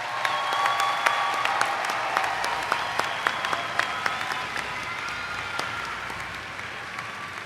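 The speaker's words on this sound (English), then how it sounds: "Please join me in giving them a round of applause for their service today." A commencement ceremony crowd applauds staff and volunteers in a sustained, even round of clapping from many hands in a large space, holding steady throughout with scattered sharper claps and no talk.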